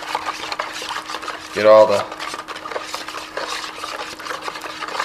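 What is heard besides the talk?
stirring homemade fish bait with a spoon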